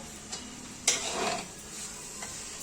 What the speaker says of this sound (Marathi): आपण दोन मिनिटं अजून परतून घ्या